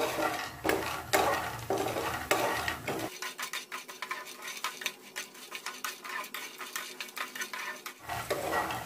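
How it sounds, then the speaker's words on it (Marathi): Vada fries in a pan until golden under busy metallic stirring, with rapid spatula scrapes and clinks over a light sizzle. The low hum drops out midway and then returns. "अगदी असा लालसर कलर म्हणजे गोल्डन थोडासा कलर येईपर्यंत आपण हा वडा भाजून घेणार आहोत।"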